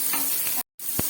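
Onions sizzle and crackle steadily in a hot pan while being fried for momos, a close, continuous hiss with a brief stir, one short gap of silence and a soft knock near the end.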